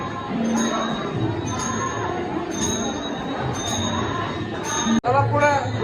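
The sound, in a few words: crowd of people at a temple on Mahashivratri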